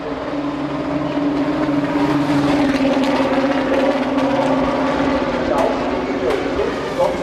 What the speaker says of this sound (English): certainly it looked and sounded as though the pit lane speed limiter had cut in properly